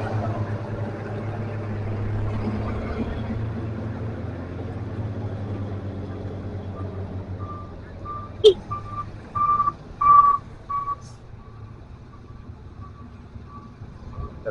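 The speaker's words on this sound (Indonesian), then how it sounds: "Ada 2 truk semen yang melintasi ke bawah" Two cement trucks descending the steep Sitinjau Lauik mountain road toward Padang: a heavy low engine rumble that gradually fades, followed by intermittent sharp electronic beeps and a few clunks, with no talk.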